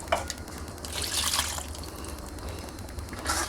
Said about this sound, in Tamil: கொஞ்சமாக சேர்த்துட்டோம் தண்ணி